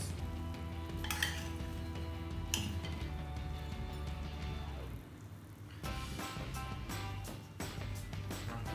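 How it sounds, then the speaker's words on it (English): Utensils clink and scrape on plates as roast potatoes fresh from the oven are plated, several close, light metallic taps over a low background hum. "we're going to plate up a few of these potatoes"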